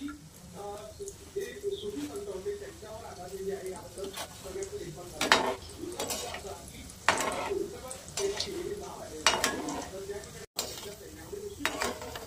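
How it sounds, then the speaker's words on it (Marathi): Gulab jamun frying in oil over a low flame, a soft steady sizzle with occasional clinks and scrapes of a utensil in the pan, while someone talks throughout. "बारीक गॅसवरच तळायचं आहे"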